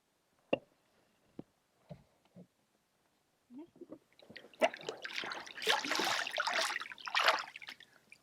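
Water splashes and trickles as a bucket is emptied into a bath aboard a boat cruising on a flat ocean, a continuous pouring wash after a few sharp knocks and clunks.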